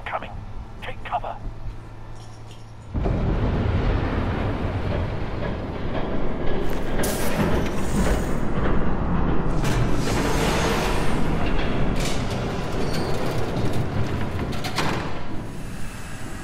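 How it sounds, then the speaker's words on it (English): A train rumbles past in the Batman: The Telltale Series video game, a loud, steady roar that swells in after a quieter opening and holds to the end, with a voice speaking briefly near the start. "There's a train coming. Take cover."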